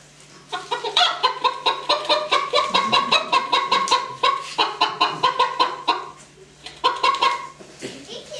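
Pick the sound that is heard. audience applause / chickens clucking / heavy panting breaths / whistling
chickens clucking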